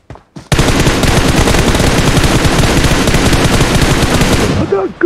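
Sustained rapid automatic gunfire from a shooter video game, a loud continuous burst lasting several seconds after a couple of short shots, ending with scattered shots.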